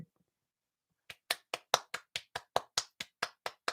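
One person clapping about a dozen times in a steady, even rhythm after a second of near silence, crisp and close.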